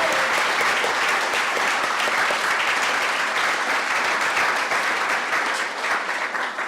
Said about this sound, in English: we'll all give you a round of applause